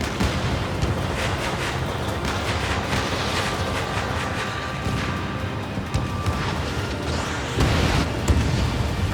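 Missile explosion in the Ace Combat 7 video game: a dense, continuous roar of booming blasts and rumble fills the whole stretch, with a louder burst near the end, no voices.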